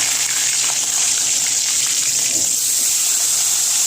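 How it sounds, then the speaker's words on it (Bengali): Katla fish pieces frying in hot oil for a Bengali kalia, a steady loud hissing sizzle that runs unbroken and close throughout, with no talking. "এরকম লাল লাল করে একটু ভেজে নেবো মাছগুলো।"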